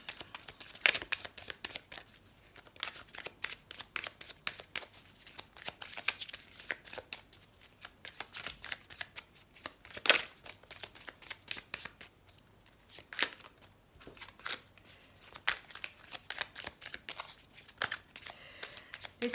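Tarot cards are shuffled by hand up close, a steady stream of soft riffling flicks and slaps in irregular bursts, quiet and with no talking.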